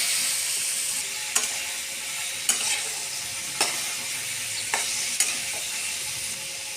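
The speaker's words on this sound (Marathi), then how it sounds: "याच तेलामध्ये वांग बटाटा फ्राय करून घ्यायचं." Eggplant and potato frying in oil in a home kitchen pan, a steady broadband sizzle with a few sharp clinks of a stirring spoon at regular intervals, no voices.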